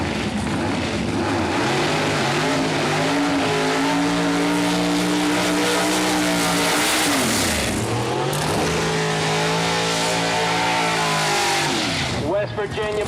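Pro Modified drag race cars at Farmington Dragway outlaw nitrous racing, a Chevrolet in the near lane: loud, sustained engine roar with rising and falling revs and a sharp pitch sweep, while an announcer talks over it.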